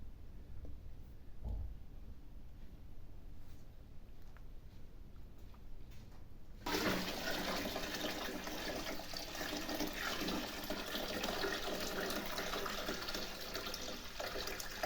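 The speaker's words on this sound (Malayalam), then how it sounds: "വെള്ളം ഒഴിച്ചോണ്ടിരിക്കണല്ലേ." Quiet at first, then a steady gush of water pouring into a tank begins partway through and continues strongly to the end.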